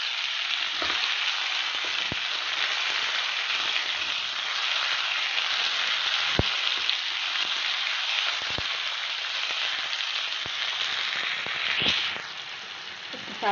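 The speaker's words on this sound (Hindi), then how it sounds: "हमारा प्याज ब्राउन हो चुका है और अब हम इसमें ऐड करने लगे हैं टमाटर।" Browned onions and added tomatoes fry in oil for a kofta gravy, giving a steady close sizzle with occasional sharp clicks and spatters from stirring.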